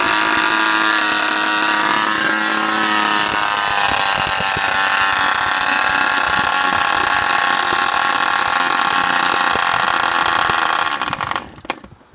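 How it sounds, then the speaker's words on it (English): A homemade model airplane engine buzzes loudly and steadily at a high, whining pitch as it is started outdoors, then sputters and cuts out abruptly near the end. "this engine is giving him some complications"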